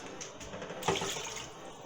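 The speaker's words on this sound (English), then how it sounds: "Gonna add some water to it." Water poured into a cooking kettle for a pirate stew, a soft steady splashing pour with a brief louder gush partway through, close but fairly quiet, with no talking.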